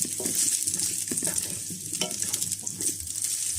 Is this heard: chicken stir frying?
yes